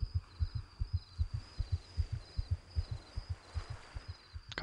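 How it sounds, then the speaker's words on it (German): Steady heartbeat from the video game Black and White, a regular low double-thump pulse repeating about four times a second throughout, with a faint high-pitched tone running above it. "ich höre hier die ganze Zeit so ein Herzklopfen"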